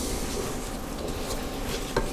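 Peanut butter chip cookie batter is scraped down inside a KitchenAid stand mixer bowl, a steady rasping scrape with a light knock of the spatula against the bowl near the end.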